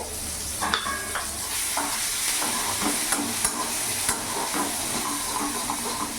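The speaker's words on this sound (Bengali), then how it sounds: "পেঁয়াজটা কিছুক্ষণ ভেজে নেবো যাতে পেঁয়াজের কাঁচা ভাবটা চলে যায়" Finely chopped onions fry in hot oil with whole cumin and cardamom, sizzling steadily and close while a spoon scrapes and stirs the pan in a loose rhythm.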